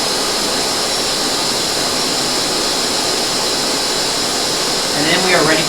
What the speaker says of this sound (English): going to turn on the shop vac back here. Then I'll turn on the spindle